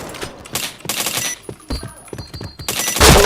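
Rapid gunfire from a shooting video game, bursts of shots crackling near and loud in uneven clusters, with a brief louder flurry at the end.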